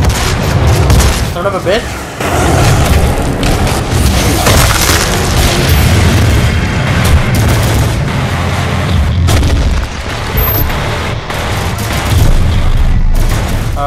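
Heavy gunfire and booming blasts in the video game DOOM demo: a loud, continuous barrage of shots and explosions that barely lets up. A man briefly curses over the din.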